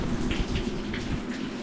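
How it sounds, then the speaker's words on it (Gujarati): Heavy rain pours down in a village in a dense, steady hiss of drops hitting surfaces, with no voices heard. "જો આટલો બધો વરસાદ આવે છે"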